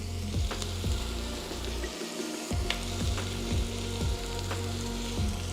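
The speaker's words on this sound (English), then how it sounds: "Now I'm gonna go ahead and add the peppers." Peppers sizzle steadily in a frying pan with sausage and onions for a Colombian rice dish, with occasional stirring scrapes punctuating the close, continuous frying noise.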